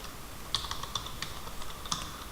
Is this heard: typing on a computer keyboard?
yes